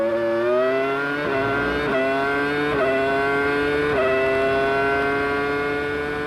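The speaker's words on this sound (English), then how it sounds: "The sector times look too good for Ralph's liking as the Ferrari approaches the line." Ferrari Formula 1 car from 2001 screaming toward the line during qualifying, a loud high-pitched engine with quick gear-change steps as revs climb again and again, heard alone.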